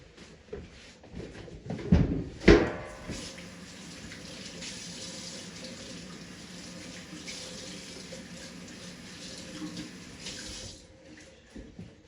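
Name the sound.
washing hands under a running tap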